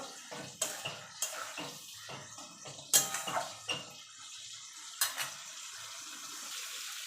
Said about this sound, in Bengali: এবার চিংড়ি মাছ আর আলুটা দিয়ে দেবো দিয়ে একসঙ্গে ভালো করে কষিয়ে নেব